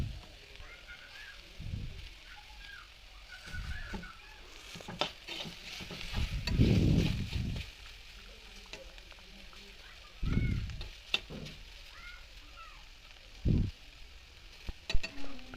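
Bitter gourd pieces fry in oil in a pan with a soft, steady sizzle, broken by several louder bursts of stirring and scraping, with no voices.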